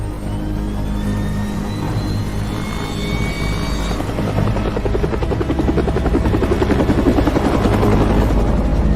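A helicopter roars loudly and close by, its rotor throbbing steadily under a whining engine drone that stays constant and grows slightly stronger as it goes, with no voices.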